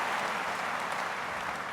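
A church congregation claps for the Lord during an evening worship service, a dense, steady wash of applause from many hands that fills the whole moment without a break.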